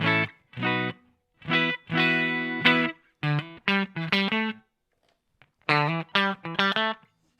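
A Fender Stratocaster electric guitar in a clean tone, with neck pickup, plays short, bright phrases of plucked notes and chords, separated by brief pauses, with no talking.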